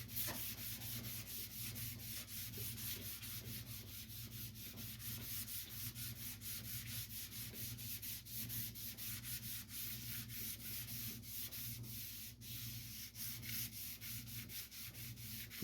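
A steel-tubing sanding block, half inch by inch and a half, works over the old paint of a 1970 Datsun 510 in steady, rapid back-and-forth strokes, a continuous close rasping with no talk.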